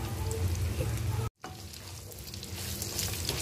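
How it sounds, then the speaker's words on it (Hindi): Raw mango pieces frying with spices in a pan for sweet pickle, a close, steady sizzle with a brief cut near the start, then continuing evenly with light stirring and no talking. "इन सब चीज़ों को मैं मसाले के साथ अच्छे तरीके से फ्राई कर लूँगी"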